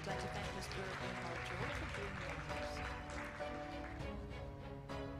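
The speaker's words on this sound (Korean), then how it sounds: "감사의 박수 부탁드리겠습니다" Audience applause at an awards ceremony during a national brand conference, steady and fairly quiet clapping from a crowd that continues throughout with some talk mixed in.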